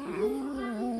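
A single drawn-out cat meow, close and moderately loud, wavering in pitch over about a second with no other sound around it.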